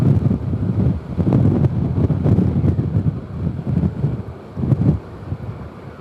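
Steady low rumbling wind buffeting a microphone while riding a 2018 or later Honda Gold Wing motorcycle behind a Slipstreamer windshield, fluctuating in gusts throughout, fairly loud with no voices.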